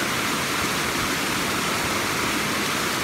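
A waterfall at a natural site in Mixquiahuala roars as dense, steady white noise, loud and unbroken from start to finish with no voices.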